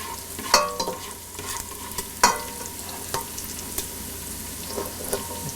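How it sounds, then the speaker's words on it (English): Bacon bits sizzle and crisp in a pan, with a steady frying hiss broken by a few sharp clinks of a utensil scraping and stirring, close and moderately loud. "Try and get those little bacon bits a little crispy."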